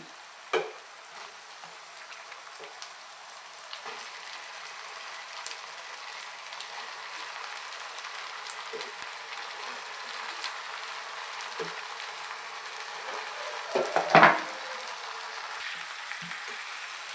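Brinjal and broad bean pieces frying with onions in a pan, a faint, steady sizzle like light rain with sparse soft scrapes of stirring and a louder clatter of the spoon near the end.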